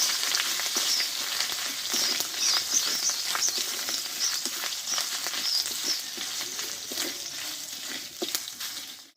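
Crushed ginger sizzles and fries with cauliflower stems in hot oil in a home kitchen. The frying is a steady, close hiss with small crackles and occasional stirring scrapes, and no one speaks.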